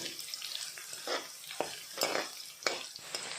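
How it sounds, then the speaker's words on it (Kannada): Green chili, ginger and garlic fry in a pan of hot oil, a steady sizzle broken by repeated scraping stirs of a spoon against the pan, close and moderately loud. "ಫ್ರೈ ಮಾಡಿಕೊಳ್ಳುವ ಎಲ್ಲವನ್ನು."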